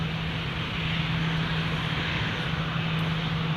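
A British Airways airliner climbs away from Newcastle International Airport into fog, its engines a steady, moderate, distant roar with no voices.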